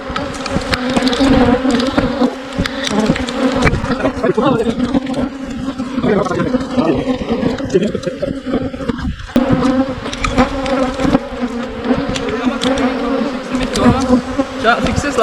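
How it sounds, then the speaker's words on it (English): Bees swarm and buzz continuously around two wrecked beehives outdoors, a dense, close, steady insect drone that persists throughout while people talk over it. "here you can see there are bees"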